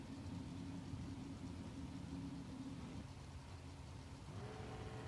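A 1963 Corvette roadster races down a drag strip at a spring drag racing event, its engine a continuous, distant, muffled drone with steady low rumbling tones and no voices.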